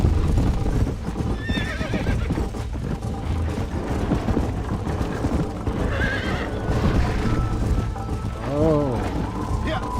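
A horse in the video game Red Dead Redemption gallops with rapid rhythmic hoof clip-clops and lets out a couple of neighs, one near the end, with game sound and some voice underneath.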